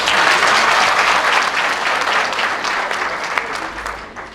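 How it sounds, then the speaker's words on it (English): Engineering students at a school symposium clap for themselves in a hall, a full, even burst of applause from a large group that fades gradually toward the end. "So clap hands for yourselves."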